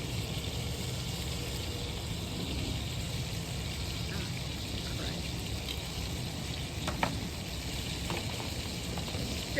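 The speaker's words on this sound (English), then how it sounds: "what you're trying to get is to get a good sear on these" Chicken pieces searing in a pan for chicken piccata, a steady broadband sizzle running throughout with a few faint clicks, moderately quiet and close.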